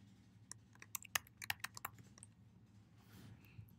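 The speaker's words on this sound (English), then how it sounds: "unlock your system preferences by typing your password" Someone types on a computer keyboard in a quick burst of crisp key clicks, close and clear, which trails off into quiet.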